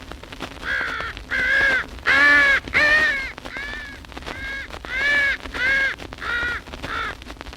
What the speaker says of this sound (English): this is an original recording of the death cry of a crow